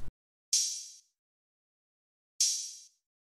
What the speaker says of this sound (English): For the hook, I then added an open hat which would sound like this.